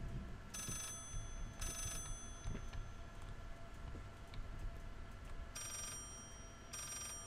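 A telephone rings inside the horror video game Layers of Fear, sounding in repeated bursts over a steady low background drone, two rings near the start and two more near the end.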